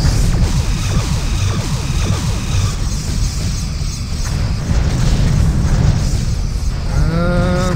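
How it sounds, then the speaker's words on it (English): Deep, rumbling starship explosions and booms from Star Trek Bridge Commander roll continuously, loud and heavy, with a rising electronic whine near the end, like sci-fi combat effects. "Lots of explosions."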